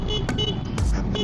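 A Zontes 400G motorcycle horn honks loudly in a couple of short blasts over steady engine and road noise in Metro Manila traffic.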